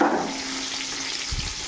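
Onions fry in a pan for pulao, giving a steady, close sizzle that runs briefly and alone.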